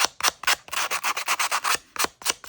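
A handheld sanding tool is rubbed briskly against paper edges to roughen and distress them, a close series of quick scratchy strokes in an uneven rhythm, with no talking.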